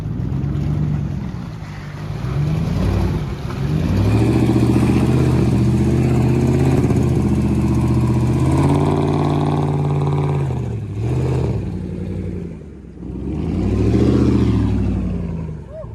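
A lifted Ram pickup on 37-inch tires crawls over an off-road trail, its engine droning and revving loudly in uneven surges, with a brief dip near the end, and little talk over it.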